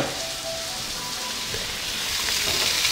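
Salmon sizzles in a frying pan with a steady, close hiss of spitting oil that swells slightly toward the end, with no voices.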